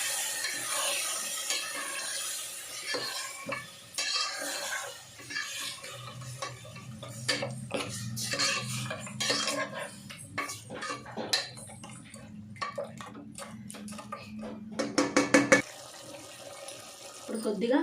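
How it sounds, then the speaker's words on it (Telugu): Mutton being stirred into fried onions in a cooking pot for pulao, with irregular scraping and clinking of a spoon against metal, a wet sizzle beneath, and a burst of quick rattling strokes near the end. "ఆనియన్స్ అనేది వేగిపోయాయి కదా, బాగా మిక్స్ చేసుకోవాలి"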